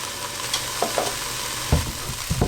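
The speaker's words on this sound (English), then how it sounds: "So there you go, that's frying down rather nicely." Curry base of a lamb and spinach curry sizzles quietly in a pan while a utensil scrapes and clacks against it in a few irregular strokes, close by and without any voices.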